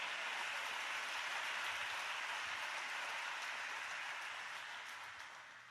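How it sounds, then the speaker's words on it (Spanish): A church congregation applauds during a Spanish-language sermon, producing a steady, even wash of clapping at moderate distance that gradually fades toward the end. "Denle un aplauso a ese Dios maravilloso nuevamente."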